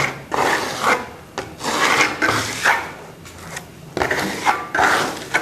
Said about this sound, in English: I'm going to trowel it on